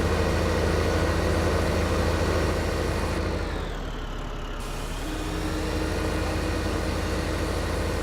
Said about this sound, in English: he can't hear me over the sound of his tractor